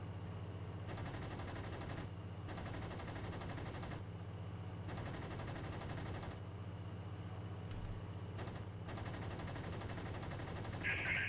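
Aircraft guns fire in bursts in IL-2 Sturmovik 1946, long rattling volleys broken by short pauses, heard over a constant low drone of the plane's engine.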